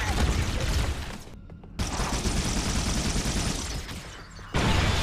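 Rapid, loud gunfire crackles in Halo: Combat Evolved during a firefight on The Silent Cartographer level, continuous bursts broken by a short gap and then resuming.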